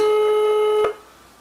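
A steady telephone tone after a hang-up on a call, loud and unbroken, cutting off abruptly with a click before near-silence.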